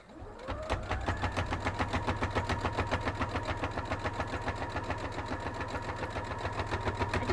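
A sewing machine runs steadily, top stitching a fabric Christmas centerpiece basket, with a fast regular needle rhythm that stays close and loud for the whole stretch after a brief start-up.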